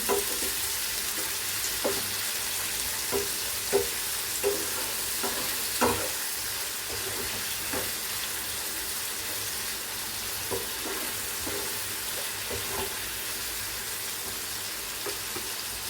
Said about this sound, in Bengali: লবণ দিয়ে আরও একটু ভালো করে নাড়বো